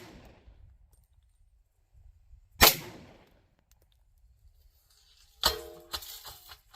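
Two sharp Cz-52 pistol shots fired with Bulgarian ammunition outdoors, a couple of seconds apart, each a loud crack with a short echoing tail against a quiet background.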